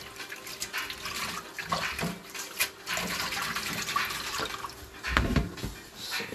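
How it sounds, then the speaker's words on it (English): Sea moss being rinsed under running water: a continuous splashing flow from a tap into a sink, with a louder gush near the end and no talking. "You want to rinse, get all this stuff off of it."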